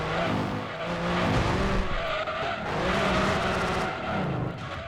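A rear-wheel-drive race car in Gran Turismo 2 slides with sustained tire squeal over a droning engine, the screech rising and falling across several seconds.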